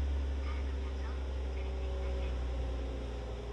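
A warmed-up Nissan 300ZX Z32 engine idles with a steady, low, even rumble and a constant hum throughout, without noticeable rev changes.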